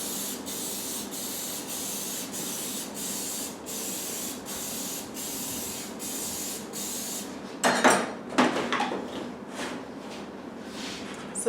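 Cooking spray without soy lecithin hisses steadily onto a muffin pan in the kitchen. It then turns into short, uneven bursts of spraying.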